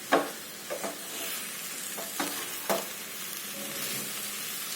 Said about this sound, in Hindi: मिक्स कर लेती हूँ सारी चीज़ों को।